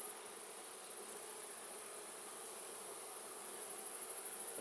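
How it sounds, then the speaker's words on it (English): Honeybees carrying pollen buzz continuously at an open beehive, a soft, even drone of many insects close by with no voices. "See some bees with pollen on them."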